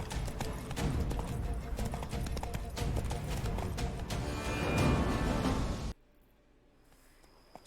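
Horse galloping in The Witcher 3 video game, steady rapid hoofbeats with game ambience, which cut off abruptly to near silence.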